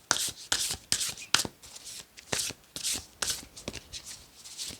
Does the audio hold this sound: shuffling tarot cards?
yes